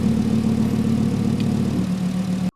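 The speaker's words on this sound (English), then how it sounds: "we've just started up the car to give the valve controller a little check" An Audi R8 engine with an exhaust valve controller fitted idles steadily nearby, a low, even rumbling hum with a slight change in tone near the end before it cuts off abruptly.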